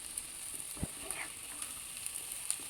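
Cabbage fries in a pan with a faint, steady sizzle and a few soft stirring scrapes.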